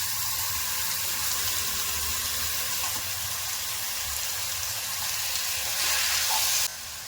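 Half a kilo of finely chopped tomatoes hits a hot pan and sizzles loudly, a dense steady hiss that carries on throughout and swells briefly near the end, with no voices.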